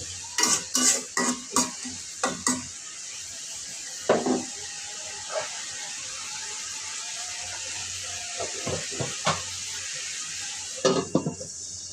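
Papaya frying in a pan with garlic paste, stirred with a utensil that scrapes and clinks in bursts over a steady sizzle, with no one talking.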